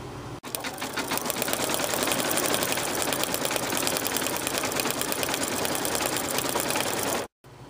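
An embroidery machine stitches a gold Mylar layer in a complex design, running with a steady, rapid, loud mechanical chatter for several seconds before stopping abruptly near the end.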